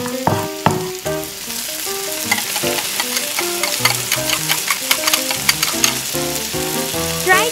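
Onion frying in cooking oil in a tiny miniature kitchen pan, a steady close sizzle with frequent clinks and scrapes of a small utensil stirring, no voices.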